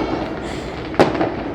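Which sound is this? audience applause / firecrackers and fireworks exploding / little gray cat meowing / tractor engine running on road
firecrackers and fireworks exploding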